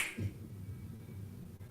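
A single finger snap lands near the start, sharp and close, followed by a low sustained hum with no talk.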